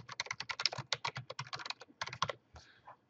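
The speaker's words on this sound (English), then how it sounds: "Apparently I'm having difficulty typing today." Rapid, uneven typing on a computer keyboard, close and fairly quiet, with quick bursts of keystrokes separated by a couple of short pauses and no talking.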